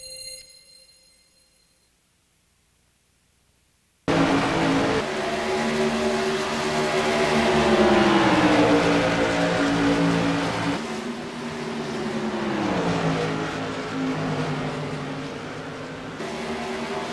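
Race cars from a CRA Modified tour roar around Rockingham Speedway, a loud sustained engine drone with rising and falling pitch as cars pass, following a few seconds of near silence with faint tones.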